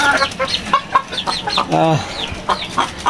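Domestic chickens on a farm cluck in a busy series of short, close calls, with one longer drawn-out squawk in the middle and a faint voice underneath.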